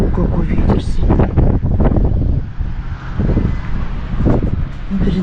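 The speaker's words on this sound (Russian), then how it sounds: "Какой ветер сильный." Strong wind buffets the microphone outdoors on a cold, stormy day with trees thrashing, producing loud, gusty rumbling in surges.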